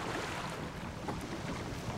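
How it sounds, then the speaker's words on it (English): Strong wind gusting across open water, a steady roaring rush with buffeting on the microphone, continuous and fairly close, with no voices. "Too windy. Not today."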